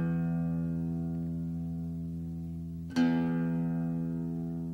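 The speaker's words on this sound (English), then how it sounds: "We'll start with the low E or sixth string." A sustained low E (sixth) guitar string note rings steadily, then is plucked again near the end, its bright attack decaying into a long, even tone.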